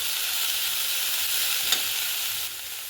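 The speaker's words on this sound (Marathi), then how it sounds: "शिमला मिरची पण छान परतून घेऊया आपण यात।" Capsicum stirred and sautéing in a pan while making filling for soft, fluffy bao, a steady close sizzle with broadband frying hiss throughout and one brief clink near the middle.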